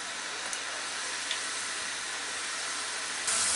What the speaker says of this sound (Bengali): দিয়ে এখন এগুলাকে আমার ফাইনাল ভেজে নিতে হবে। একটু নেড়ে দিই যাতে তলায় লেগে পুড়ে না যায়